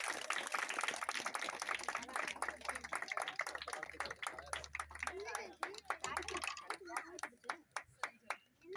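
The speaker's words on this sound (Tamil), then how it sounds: "ஒரு பெரிய கைத்தட்டல் ஆராதனா" Clapping for a child's drawing at a kids' competition starts under ongoing chatter and builds into clear, separate hand claps that come to the fore toward the end.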